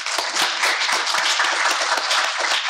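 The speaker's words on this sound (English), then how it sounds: "Can we give Lieutenant Terrell a round of applause?" Steady applause from an audience at a community meeting on emergency preparedness, with many hands clapping together in a dense, continuous burst, close and loud throughout.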